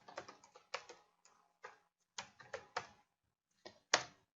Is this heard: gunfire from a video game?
no